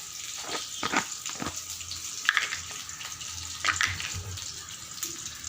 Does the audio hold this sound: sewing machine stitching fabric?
no